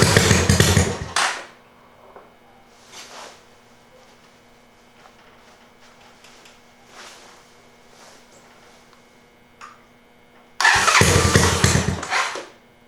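Cold-weather start attempt on a Honda Fourtrax 200SX quad at about 20 degrees, choke applied: a loud engine burst catches briefly and dies, followed by quiet with faint knocks, then a second loud burst of cranking and engine revving near the end.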